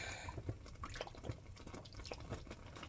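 Yarn dye leaking from a bottle, dripping in small, soft, irregular drops close by, faint and alone.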